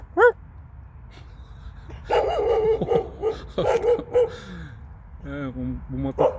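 A large, tall stray dog on a street barks several times, with yips and a whimpering whine among the barks, loud and close. People talk in between and over the barking.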